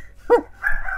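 A single sharp bark from a dog in Gothic 3, close and clear, followed by a softer drawn-out whine over faint background hum.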